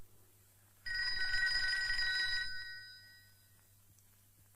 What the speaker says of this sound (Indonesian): Don, telepon bakal lo nih, Don.